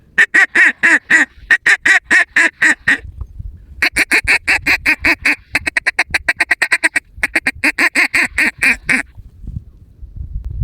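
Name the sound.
duck call whistle imitating duck quacks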